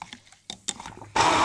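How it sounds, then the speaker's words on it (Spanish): A hand blender whirs loudly as it chops garlic in water, a sudden steady buzzing burst starting near the end after some brief kitchen clatter. "Y le voy a meter la batidora"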